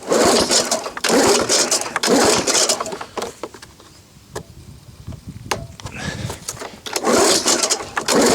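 A Lawnboy 19 lawn mower's small engine restarting outdoors, loud rough bursts of running that sputter and fade to a near stall in the middle, then pick back up to a strong roar at the end, with no talking.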